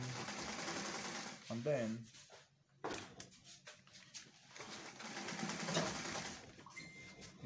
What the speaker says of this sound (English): Now sew on that line, sew on that line